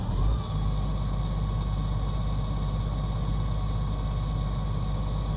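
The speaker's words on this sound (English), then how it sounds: "Not sure what's going on with the engine noises." Steady vehicle engine drone in Farming Simulator 19, a constant low idling rumble with a faint higher tone above it, holding level and unchanging throughout with no talk.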